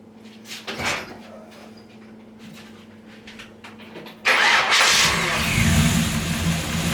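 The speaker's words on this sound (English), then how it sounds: "now listen to it when I start it up" A 1970 C10 pickup truck engine starting up: a few faint clunks and a brief crank, then the engine catches and settles into a loud, close, rough idle.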